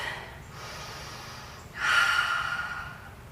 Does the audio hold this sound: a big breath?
yes